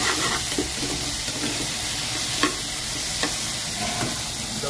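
Carrots being stirred into egg rice frying in a pan, a steady sizzle broken by several scraping spatula strokes, close and fairly loud, with no talking.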